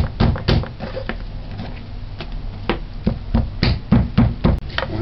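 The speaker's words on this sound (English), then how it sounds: "Use a meat tenderizer or a clean hammer." A meat tenderizer or clean hammer pounds a heart for stew, giving loud, close, repeated dull thuds in an uneven rhythm, sometimes in quick pairs, with no voice over them.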